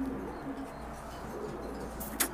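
An older breeding pigeon coos softly in a loft, faint low rolling calls over a steady hum, with one brief sharp sound near the end.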